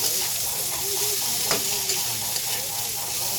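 Garlic browns in a hot frying pan with a steady, dense sizzle, heard close, while a spoon or spatula stirs it with occasional scrapes and taps. No one speaks.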